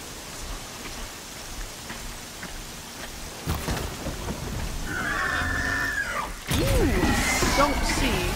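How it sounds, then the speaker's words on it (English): Heavy rain falls in the Horizon Zero Dawn game world, a steady wash of noise under which a creature's calls and louder thumps rise toward the end, with someone talking over it. "There's heavy rain."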